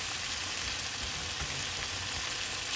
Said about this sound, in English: I'll put the lid back on it and let it cook a little bit more.